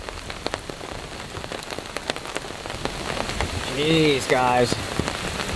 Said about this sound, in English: it's raining quite heavily